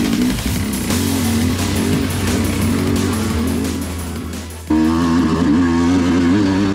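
An enduro motorcycle labours up a long, steep, rocky hard-enduro hill climb in Australia, its engine droning loudly and steadily, then jumping to a higher revving pitch near the end.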